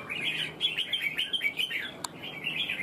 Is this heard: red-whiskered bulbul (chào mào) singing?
yes